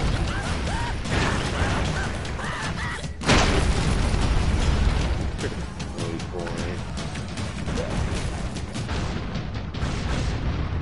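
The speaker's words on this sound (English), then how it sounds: "Dude, the random airstrikes are so dumb." Dense, chaotic blasts from random airstrikes in the game Broforce, with a sharp loud explosion near the start among continuous rumbling, crashing and mechanical game noise.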